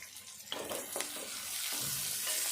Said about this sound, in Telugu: ఇప్పుడు కరివేపాకు వేసుకుందాము.